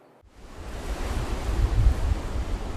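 Ocean surf on the Washington coast comes in as a broad, rushing wash that builds from near silence into a loud, steady roar of breaking waves, with no voices.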